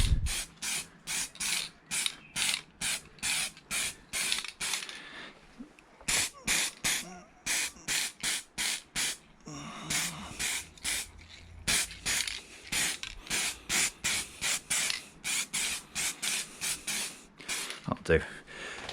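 Repeated short bursts of an aerosol spray can coating refurbished car wiper parts for an R32 and R33 Skyline, a rhythmic series of close hissing blasts with brief pauses, a few quieter gaps midway and a faint thump near the end.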